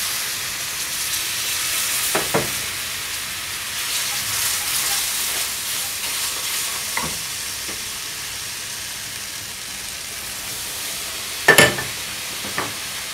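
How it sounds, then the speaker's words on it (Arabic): Hot milk goes into a flour sauce cooking in a pan and is stirred. A steady close sizzle and hiss carries through, with a few sharp utensil clicks against the pan. "بعدين هنزل عليهم حليب سخن"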